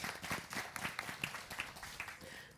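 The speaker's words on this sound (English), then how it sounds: "An applause for Mark." An audience gives a faint, scattered round of applause after a keynote at a business event on child rights, light uneven claps heard from a distance.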